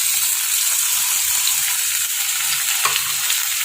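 Tomato drops into a pan of potatoes and pointed gourd frying in oil, giving a steady, close, loud sizzle with faint stirring scrapes and no talk.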